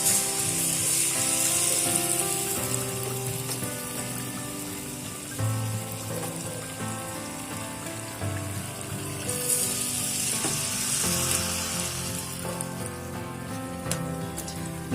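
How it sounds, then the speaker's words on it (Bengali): Dudh gokul pitha dumplings fry in oil over a low gas flame, producing a gentle, continuous bubbling sizzle with background music. "গ্যাসের ফ্লেমটা একদম লোতে রেখে পিঠেগুলো ভাজতে হবে"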